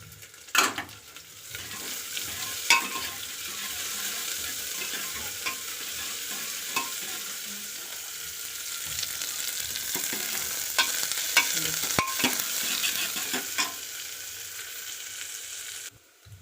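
Onion frying in a pan just after garlic, cooked for a home-style potato and wadi sabzi: a steady close sizzle runs throughout, with a few sharp spoon scrapes and stirs against the pan and no talk.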